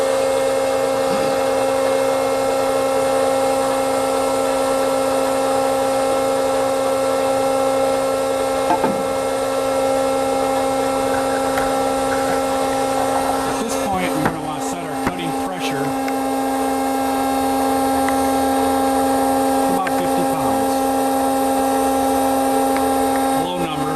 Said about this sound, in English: I'm going to turn the hydraulic system on, so it's going to be a little noisy.